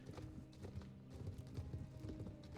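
Horse hooves clip-clop steadily in Star Stable Online, a repeating rhythm of soft game footsteps with an occasional faint whinny, no talking over them.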